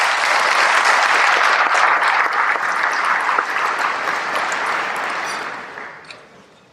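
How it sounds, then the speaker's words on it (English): Applause from a chamber of commerce awards dinner audience for retiring board members, steady and dense clapping that fills the room for several seconds before tapering off near the end. "Can I have a round of applause for them?"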